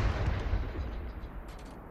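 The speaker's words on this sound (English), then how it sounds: "He's shooting off artillery" Artillery in Hell Let Loose rumbles as a continuous low, heavy barrage with repeated deep booms, fairly loud and unbroken throughout, with no talking over it.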